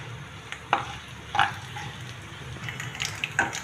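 Hot oil sizzling steadily with spice seeds and a few sharp stirs and clinks of a utensil in the pan, no voices.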